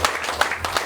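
Applause at a cancer-prevention event fills the room as a dense patter of many hands clapping, steady and fairly close, with a few louder claps standing out over the crowd.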